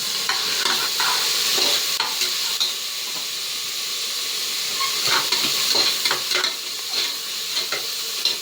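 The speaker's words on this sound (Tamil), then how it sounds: "வெங்காயம் வந்து நல்லா வதங்கணும்." Onions sautéing in a hot pan for goat head curry give a loud, steady sizzle and hiss, with occasional scrapes of a stirring spoon close by and no voices.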